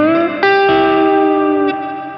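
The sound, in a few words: electric guitar through Earthquaker Devices Levitation reverb pedal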